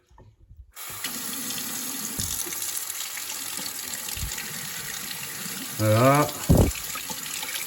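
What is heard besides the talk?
cold water running from a plumbing tap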